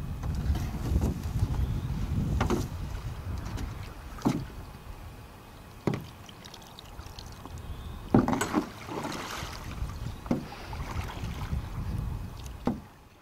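Wooden boat setting out on open water, with a steady wash of wind and water and a handful of scattered creaks and knocks from the hull, no voices present.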